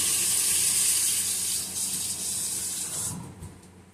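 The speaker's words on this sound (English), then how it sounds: "Wash my hands" Hands washed under a running kitchen tap, a steady bright hiss of flowing water close by, loud and continuous before thinning out as the flow stops near the end.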